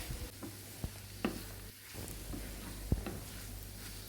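Drumstick leaves sauté with onion and garlic in a pan, giving a soft, low sizzle broken by occasional scraping stirs and light taps of a spatula.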